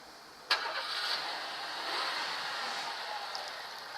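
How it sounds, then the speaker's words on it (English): A car engine catches with a sharp start and then runs steadily at a low, even hum, fairly quiet and alone without voices. "listening to the sounds of the engine as you do"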